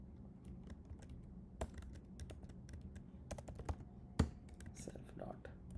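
Quiet typing on a computer keyboard while Python code is written: scattered soft key clicks in uneven bursts, with one louder tap near the end.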